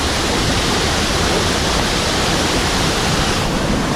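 Payaran Falls in Montalban, Rizal, a waterfall roaring as a dense, unbroken rush of water, loud and steady throughout with no voices.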